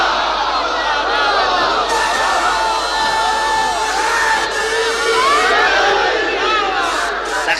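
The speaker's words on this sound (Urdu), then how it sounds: "بس نعرے ذرا کم لگائیں" A large crowd at a Quranic sermon loudly chanting religious slogans in unison, a dense, sustained roar of many voices with rising and falling shouts filling the whole stretch.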